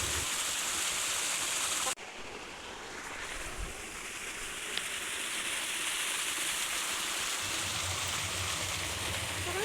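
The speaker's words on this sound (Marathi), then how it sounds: "पाटाने पाणी चाललं आहे, सऱ्यांना पाणी सोडलं आहे." Water runs through irrigation channels in a sugarcane field as a continuous outdoor rush, with a brief dip near the start before the steady flow resumes.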